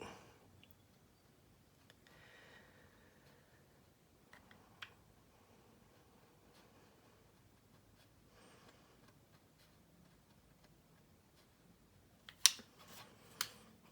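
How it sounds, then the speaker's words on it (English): A scribing tool digs into the panel lines of a 1/32 scale plastic model aircraft, making faint, sparse scratchy clicks in a quiet room, with a few sharper scraping bursts near the end. "I'm basically just digging out a piece of plastic."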